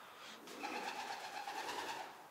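A pigeon coos in a soft, steady, low rolling call at a ruined medieval castle in Skipton, near an old stable and coaching house, heard fairly close with no talking.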